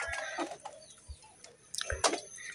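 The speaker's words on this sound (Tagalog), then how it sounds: "meron din kaming kulungan ng manok dito mga kababayan." Chickens cluck in short, scattered calls over a quiet outdoor background, moderately close, with a brief louder burst near the end.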